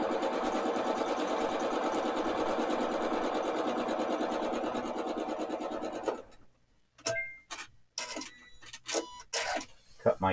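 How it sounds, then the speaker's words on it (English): A sewing machine stitches a quilt 1/4 inch from the center line, running steadily and loud for about six seconds before stopping, followed by scattered clicks and handling noises. "I have my needle set up to do 1/4 inch from the center line, and we're just going to sew."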